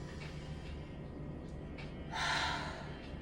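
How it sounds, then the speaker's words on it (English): A single deep breath drawn in through the nose and mouth, close and soft, swelling briefly near the end over a quiet room background. "So I'm going to take a deep breath."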